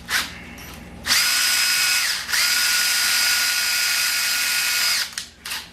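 A cordless drill on weakening batteries whirs at reduced speed while making TV antennas, running in one short burst and then a long steady spin before winding down, close and without talk.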